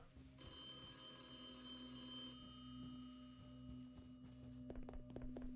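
Old-style telephone ringing in the horror video game Hidden Shelter, a quiet electronic bell trill lasting about two seconds, then a low hum and a few faint clicks.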